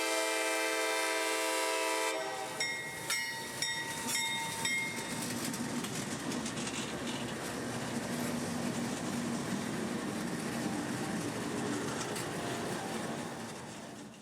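A CSX phosphate freight on Florida's Bone Valley line, led by two diesel locomotives, opens with a long loud horn blast, then rumbles past with steady wheel clatter and engine roar that slowly fades.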